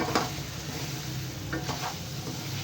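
Chicken being fried with masala for a white chicken biryani, a low steady sizzle with a few spoon scrapes against the pan, close and alone without voices.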